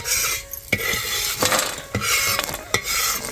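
Roasted chillies and coriander seeds being scraped out of a pan with a metal spoon, a few sharp clinks and scrapes at irregular intervals over a faint background sizzle.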